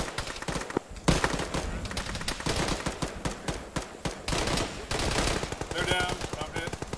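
Rapid machine-gun bursts and single gunshots crack close and constantly in an Arma military game session, with voices faintly mixed under the firing.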